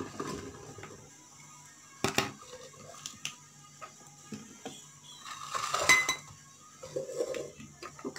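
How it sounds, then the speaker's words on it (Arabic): A pressure cooker pot is handled on a kitchen counter while peppers go into it, giving sparse metallic clinks and knocks with short rustles between them, fairly close and quiet. "كناخذوا طنجره ديال الضغط الكوكوط وكنديروا فيها هاد الزود ديال الفلفله اللي عندنا"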